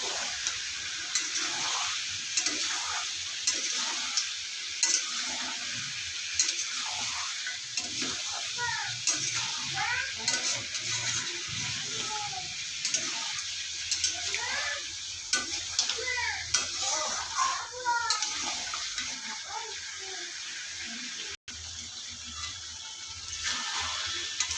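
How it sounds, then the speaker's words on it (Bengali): Country chicken curry sautés in a pan with coriander, black pepper and cumin powder. A continuous sizzle runs throughout, with frequent stirring scrapes and faint voices in the background. "এইভাবে 5 মিনিট কষিয়ে নেব।"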